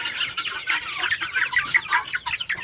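Silkie chickens cluck in a rapid, irregular run of short calls at close range, moderately loud with no talking.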